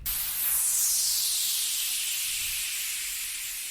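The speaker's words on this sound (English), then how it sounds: "Now this is just a noise splash." A noise splash from a music remix of a track: a loud, bright burst of white-noise hiss that swells quickly and then slowly thins and fades over about four seconds, with almost no low end.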